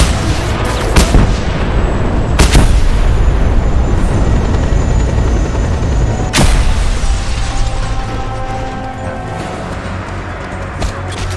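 Flak cannons firing in the video game Just Cause 2, heard as several loud, sharp booming shots spaced a few seconds apart over a constant dense rumble of game noise.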